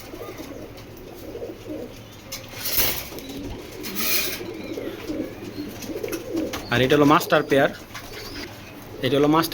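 Racing pigeons cooing nearby in soft, throaty bursts, with someone talking over and between their calls.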